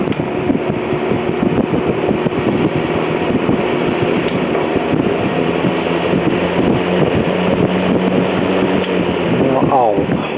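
A late-1940s to early-1950s Mathes Cooler wooden box fan whirs steadily as it spins down, a dense rushing drone with a low motor hum, under someone talking.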